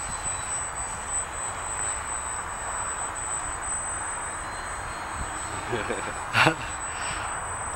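A radio-controlled model airplane flies overhead with a thin, steady high-pitched motor whine over a breezy outdoor wash. Near the end, a brief louder burst rises and then fades.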